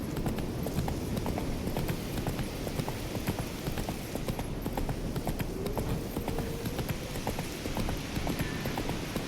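Horse hooves gallop in steady, rapid clip-clop rhythm in The Witcher video game, close and continuous over game ambience with no talking.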